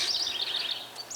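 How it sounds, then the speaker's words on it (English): Small birds chirp and trill in an early-May flower garden, a steady, moderately close twittering that carries on throughout, with a brighter call rising near the end and no talking. "Just gonna make the birds angry."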